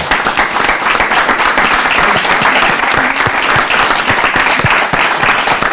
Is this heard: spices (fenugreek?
no